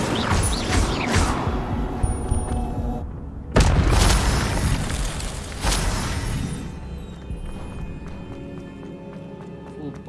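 An Incendio fire spell cast in Hogwarts Legacy, a loud fiery burst and whoosh that erupts midway through busy in-game noise of footsteps and rumbling, with a second blast later and a voice speaking at times over it.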